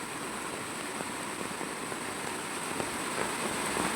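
Heavy monsoon rain pours steadily beside a swollen village river, a dense continuous hiss with no pauses and no voices.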